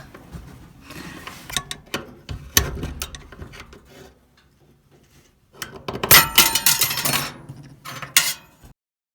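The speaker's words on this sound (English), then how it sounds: "I'm going to use this flat blade screwdriver to pry it out" Flat blade screwdriver prying out the spring clamp on an LG dryer motor: sharp metallic clanks and scraping clicks in irregular bursts, a quiet pause midway, then a louder cluster of clattering metal near the end.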